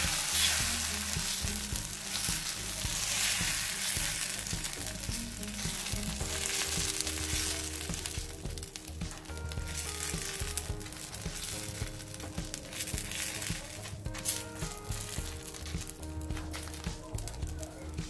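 Adai batter of mullu murungai leaves cooks on a hot griddle with sesame oil drizzled around it, giving a continuous loud close sizzle with bubbling texture and faint scraping over the whole stretch.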